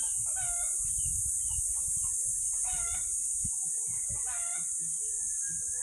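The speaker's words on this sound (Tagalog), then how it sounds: "Daming manok, no?" A flock of chickens clucks while roosters crow in several overlapping bursts nearby, set against constant high-pitched background hiss and low rustling.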